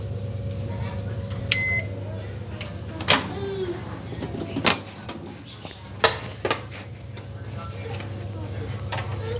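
A microwave oven heats milk in a cup, giving a steady low electrical hum throughout, with a short beep early on and several sharp clicks and knocks nearby, while a faint voice sounds in the background.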